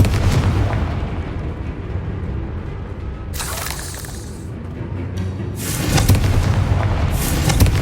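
Confringo spell blasts in the game Hogwarts Legacy, bursting in heavy booming explosions with crackling bright noise, two main bursts over a rumbling low background, loud and close.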